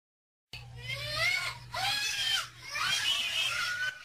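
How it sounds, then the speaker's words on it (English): A young child screams in fear at an adult in an Easter Bunny costume, three long shrill wailing screams with brief breaths between them, heard over a low steady hum. "a small child is seen jumping out of her seat and screaming, fearful of an adult dressed as the Easter Bunny"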